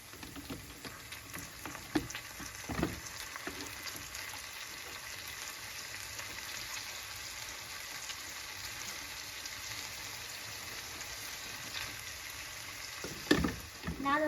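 Broccoli and sausages fry in a pan with a soft, steady sizzle at low level, and a couple of brief utensil knocks stand out near the start and near the end.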